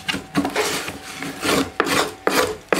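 A hand scraper works across the wooden body of a Massachusetts-built mandolin, smoothing away grinder marks in a series of close, raspy strokes with short pauses between them.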